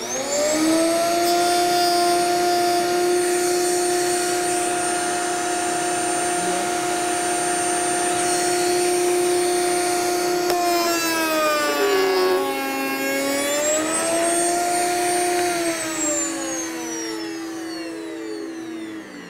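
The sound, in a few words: router cutting a Shaker raised panel in wood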